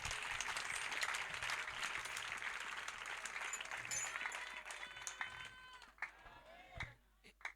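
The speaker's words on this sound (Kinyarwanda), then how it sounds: "Oya nimwongera Imana amashyi" A church congregation applauds, a dense wash of many hands clapping at moderate distance that thins out and fades toward the end, with a few scattered claps and faint voices left.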